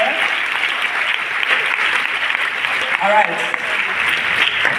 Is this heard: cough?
no